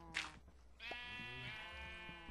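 Sheep bleating in Minecraft: a short breathy burst, then a long, wavering, tonal bleat held for over a second and a half against quiet low game ambience.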